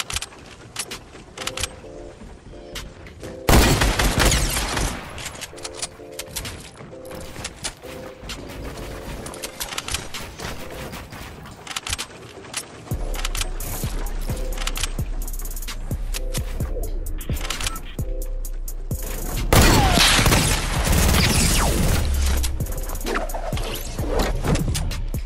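A briefcase weapon fires in a Fortnite match, sending out repeated loud bursts of digital gunfire, some in rapid strings, over a busy game soundscape.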